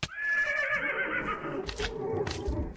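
A single horse in Minecraft whinnies loudly for about a second and a half, followed by a few scuffling thumps, with no talking.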